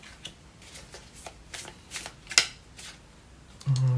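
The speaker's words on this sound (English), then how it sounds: "let's shuffle for one more" Tarot cards are shuffled in a quiet room: a series of soft, crisp riffling bursts at an uneven rhythm, close and fairly faint, ending with a brief low thump.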